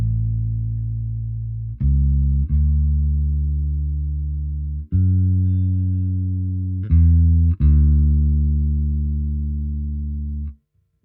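A bass guitar plays a sequence of six sustained, loud low notes, passing by the 5 or the 3 on the way to the 4, each note ringing into the next with no talking.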